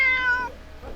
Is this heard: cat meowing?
yes